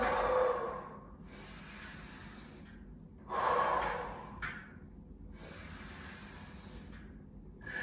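Breathy exhalations during a Pilates reformer exercise, several long airy breaths rising and falling in a slow rhythm, close and fairly soft, with a stronger push of air midway and no talking.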